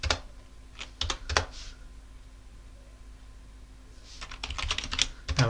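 Commands are keyed into a computer keyboard while installing Arch Linux in a virtual machine, heard as a quick cluster of close clicks, a quiet gap of a few seconds, then another brisk burst of keystrokes.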